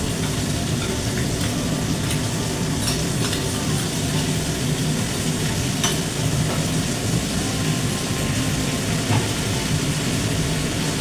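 Spice paste frying and being stirred in a pan for a Bengali white bean and poppy seed dish, a steady dense sizzle running throughout with occasional scraping, close and fairly loud, no talking.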